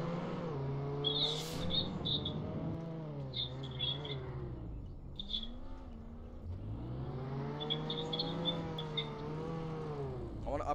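A Roblox game car drives and revs repeatedly, its engine pitch sweeping up and down in long waves, with bright chirping game sounds scattered over it, fairly quiet and without speech.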